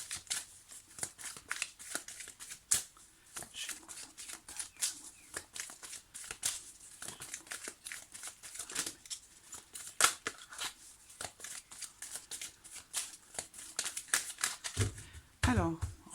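Tarot cards are shuffled and cut in repeated crisp riffles and slaps, close and fairly quiet, with a few louder card snaps and a rustling handling sound at the end.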